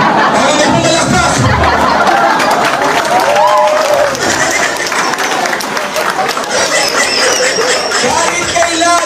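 An audience at a leaders' training session in Jolo breaks into applause mixed with laughter and chatter, loud and close, with voices rising over the clapping throughout.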